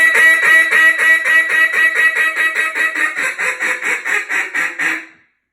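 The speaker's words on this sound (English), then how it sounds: "A ringing hail call sounds like this." A duck call is blown in a ringing hail call, a long run of about twenty loud, evenly spaced quacks that drop slightly in pitch, close and sharp, ending abruptly in silence.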